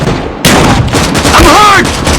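Gunfire in the survival game Rust, a sharp loud blast cutting in abruptly after a brief quiet and ringing into dense combat noise, with whistling, tonal game effects layered over it.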